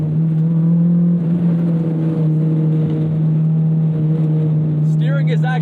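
Honda K20 engine in a K-swapped front-wheel-drive car, a loud steady droning hum while driving, with a voice talking over it throughout.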